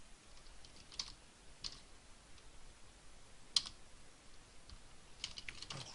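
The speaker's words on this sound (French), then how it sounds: "je vais le faire au clavier" Typing on a computer keyboard while cataloguing a periodical in PMB library software, with sparse, irregular key clicks, a sharper tap near the middle, and a quick burst of strokes at the end over quiet room noise.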